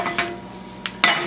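Beaten eggs whisked in a bowl for a mushroom cheese omelet, a few short sharp scraping strokes with gaps between them, close and fairly loud.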